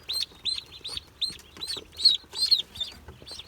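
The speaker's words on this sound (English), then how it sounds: "We have 3 ducks coming in. We got Pekin, we have Khaki Campbell, and we have what's called a white layer duck." Young Pekin, Khaki Campbell and white layer ducklings on a farm give a run of short, high, close peeping calls in irregular bursts, fairly loud with no talk over them.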